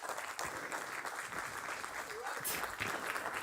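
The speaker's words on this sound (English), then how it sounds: "give him a big round of applause" A conference audience claps after a talk. The applause is steady and moderately loud and lasts the whole stretch, with a voice heard briefly over it.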